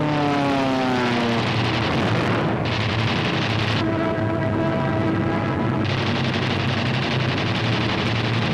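Propeller-driven wartime fighters, P-47s and German interceptors, roar loud and continuous through an aerial battle with a heavy bomber formation, engine drone swelling and shifting with whining pitch sweeps and gritty bursts.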